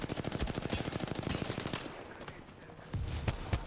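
Rapid automatic gunfire from Apex Legends bursts out in a dense rattling stream for nearly two seconds, then a few scattered single shots ring out after a brief lull.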